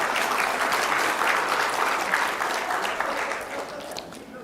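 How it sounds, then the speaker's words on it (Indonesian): Audience applause during a political speech on agriculture and food security at IPB, a continuous clapping wash at moderate level that gradually tapers, with crowd murmur mixed in. "Nggak usah tepuk tangan dulu."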